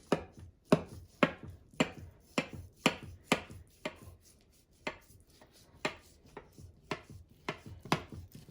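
A knife cuts into a rested ragù and béchamel lasagna, making a steady run of about fifteen crisp, close chopping knocks in an even rhythm, with no voices.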